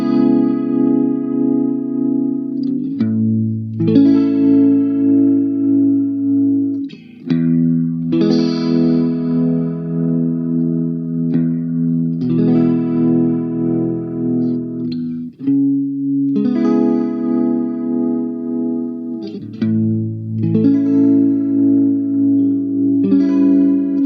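Electric guitar played through a Hardwire TR-7 pedal set to a wet rotary Leslie speaker effect, chords swirling with a spinning treble horn and bass rotor shimmer, loud and continuous with brief pauses between phrases.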